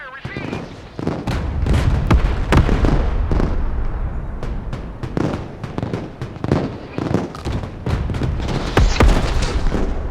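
Mortar shells land in a rapid, loud barrage of booming impacts and sharp cracks in the Broken Arrow video game, explosions overlapping densely throughout.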